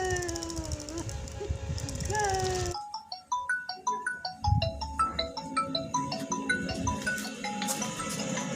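A phone ringtone plays a bright, repeating electronic melody, fairly loud and close, after a brief stretch of other tonal sound at the start.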